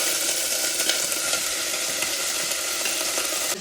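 Peas and potatoes sizzle in hot oil with cumin and asafoetida, giving a loud, dense, continuous frying crackle close by with faint stirring and no voices.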